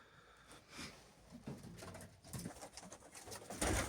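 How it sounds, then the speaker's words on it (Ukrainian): Perm high-flying pigeons coo steadily inside a dovecote, a soft layered murmur of several birds with occasional rustling and louder near calls toward the end. "Ось моя інша голубятня, в якій я зазвичай залишаю птицю на плем'я на наступний рік."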